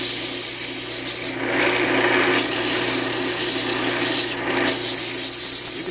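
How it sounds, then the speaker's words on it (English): Continuous rasping of sandpaper shaping a cork, steady and close with brief dips in pressure, no talking. "You can still do a lot of shaping here with your sandpaper."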